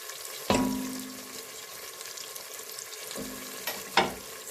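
Pepper paste sautéing in a pan for a green bean dish, a soft steady sizzle with a few sharp clacks of a spoon stirring against the pan.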